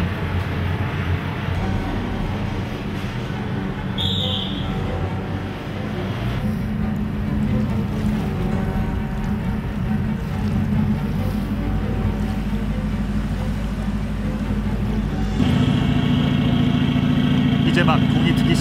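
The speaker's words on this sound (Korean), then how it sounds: "이제 막 동이 트기 시작하는 어두운 바다에는 디젤 엔진의 굉음만이 들릴 뿐이다" Diesel engines of amphibious assault vehicles drone at sea before dawn, a loud, steady low roar with water wash that grows heavier near the end, while a narrator talks over it.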